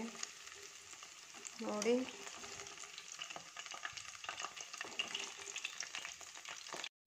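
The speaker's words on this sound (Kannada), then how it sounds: "ತುಂಬಾ ಸಖತ್ತಾಗಿ ಫ್ರೈ ಆಗ್ತಾ ಇದೆ" Cauliflower gobi Manchurian frying in hot oil, a dense, steady crackling sizzle throughout, with a brief voice speaking early on.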